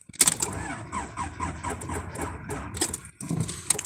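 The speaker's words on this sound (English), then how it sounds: "We'll see if my car will start." A car engine cranks over and over without catching, a rough, strained churning that runs close and fairly loud throughout, with brief metallic squeaks and a short drop near the end.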